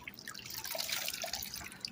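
Water and black sand sloshed around in a bucket while panning a driveway for gold, a soft, continuous splashing and trickling up close with faint dripping.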